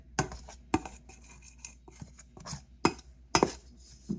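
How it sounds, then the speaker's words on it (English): A pastry blender cuts shortening or lard into flour in a bowl for southern biscuits, making sharp irregular chopping knocks and scrapes, close and fairly quiet. "take the pastry blender and you just blend the shortening or lard into the flour"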